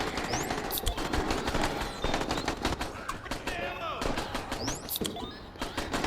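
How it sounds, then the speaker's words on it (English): Gunfire in Dead Rising 4, bursts of rapid shots and single cracks popping repeatedly in an irregular rhythm, partly distant, with someone talking over them. "There's always annoying people shooting their guns in the distance."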